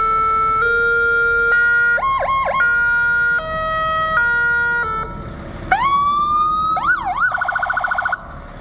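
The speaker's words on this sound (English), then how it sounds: "Loudest siren I have ever heard" A loud Oshkosh fire tender siren cycles through several wailing and yelping tones, with steady rising and falling sweeps ending in rapid warbling bursts.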